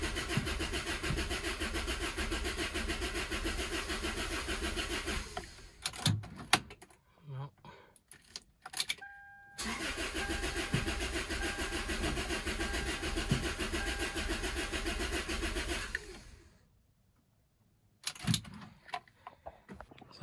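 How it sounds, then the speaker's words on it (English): A car engine cranks but fails to start: two long, steady stretches of starter motor whirring, the first about five seconds and the second about seven, separated by clicks and quiet. It is close and moderately loud, and the engine never catches. "So it doesn't want to start."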